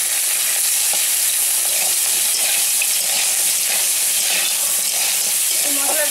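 Panch phoron and green chili sizzle steadily in hot oil for a river crab tamarind dish, a loud, continuous broadband frying hiss with occasional stirring clicks and no speech.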